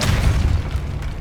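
Depulso, a force-push spell in the Hogwarts Legacy video game, lands as a single short, deep whooshing boom with a dull low rumble that fades within about a second.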